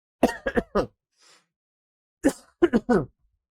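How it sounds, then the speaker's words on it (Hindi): A quick burst of three coughs, a short pause, then another cluster of three or four coughs, close and fairly loud. "मेरी खांस आ रही है पीछे"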